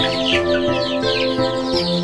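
Young chickens cluck and peep continuously at close range, overlapping calls in a busy flock with no talking.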